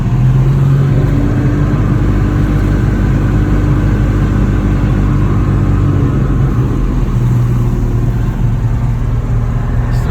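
A truck engine, heard among old Ford F-Series pickups, runs with a steady, loud, low rumble and droning tone throughout, with slight shifts suggesting revving.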